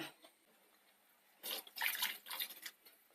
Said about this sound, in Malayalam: ഇനി ഇത് വെന്ത് വരാനുള്ള വെള്ളം ഒഴിച്ചു കൊടുക്കാം.